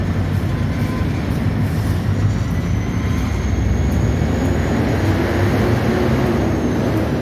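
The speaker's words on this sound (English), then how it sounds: "got a freight train coming across Friesenheisen Avenue" A freight train rolls beneath a road bridge, a continuous loud low rumble with steady rail roar and a faint high whine, heard alone without voices.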